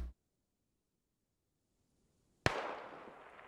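Gunfire in the video game SquadOps, a sharp cracking shot cutting off at the start, then a quiet pause before another loud crack with a decaying echo.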